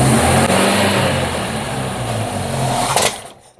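A 2.0-litre Mk1 Ford Capri engine cranks and catches into rough, uneven revving, loud and close, before dropping away at the end.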